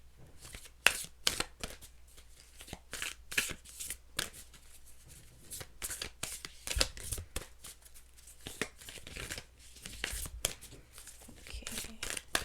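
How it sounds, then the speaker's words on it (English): Tarot cards shuffled by hand in a run of quick, crisp riffling bursts with short pauses between them, close and fairly loud, with occasional speech mixed in. "shuffle 2 more times"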